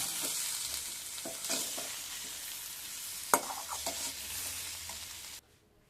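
A sweet potato curry with a little turmeric is stirred in a pan, a steady soft scraping and gentle sizzle running throughout with a few sharper knocks of the spoon, then cutting off abruptly near the end.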